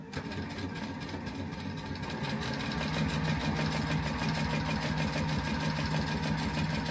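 A sewing machine stitches through a note pad cover, making a steady rapid mechanical whirr with a fast regular needle rhythm, close and continuous throughout with no talking.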